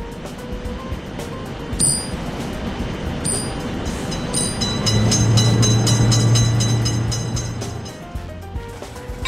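A train rolls through a railway crossing in a mobile game, a continuous loud rumble with rapid wheel clatter that swells in the middle and eases off, accompanied by light electronic game tones.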